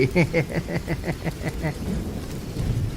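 Steady rain hisses throughout, with a rhythmic pulsing sound repeating over it during the first half.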